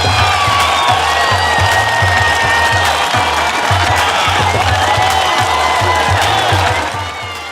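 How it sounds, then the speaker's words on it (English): Audience applause and cheering at a women-in-immunization celebration event, a dense continuous crowd sound with a steady low rhythmic pulse underneath, loud throughout and fading slightly at the end. "thank you, Reda, for the applause"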